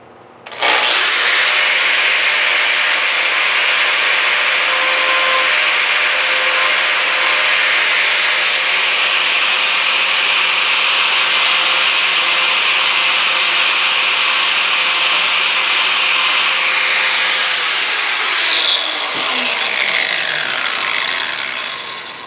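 Graff rotary carving tool cuts into hardwood at high speed, a loud, continuous abrasive whine and rasp held steady for about twenty seconds before a brief shift near the end.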